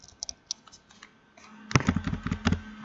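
Computer keyboard keys pressed while using a Java code editor, a few light scattered clicks followed by a louder, denser cluster of key presses near the end, close and alone without talk.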